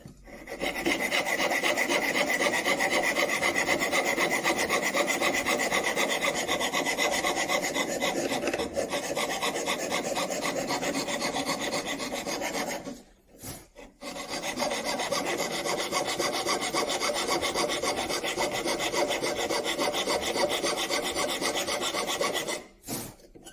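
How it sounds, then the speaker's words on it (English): Hand file rasping across brass while making turn buttons from an old hinge: steady, close, continuous back-and-forth strokes with two brief pauses partway through. "I'm going to get covered in brass filings."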